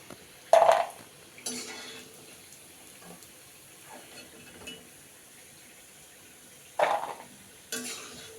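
Namkeen snacks being stirred and scooped from a frying pan into a bowl, with two or three short scraping bursts separated by quiet stretches of faint background sizzle.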